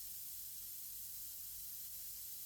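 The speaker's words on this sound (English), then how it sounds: "So I'm gonna spray for a little bit." A truck's compressed air hose sprays a steady, faint hiss of escaping air, continuous and unbroken with no talking.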